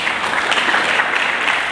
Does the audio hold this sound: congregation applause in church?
yes